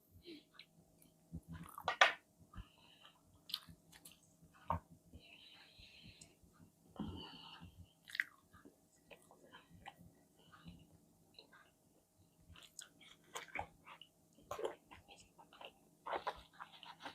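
Cabbage fried in batter is chewed close to the microphone in a quiet room, giving soft intermittent crunches, wet mouth clicks and breaths spread unevenly across the stretch.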